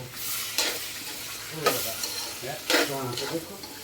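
Capsicum and tomatoes tossed into a hot frying pan produce a low sizzle, with three or four louder bursts of stirring and scraping at irregular intervals.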